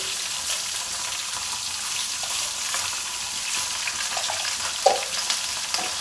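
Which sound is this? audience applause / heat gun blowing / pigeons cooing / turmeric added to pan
turmeric added to pan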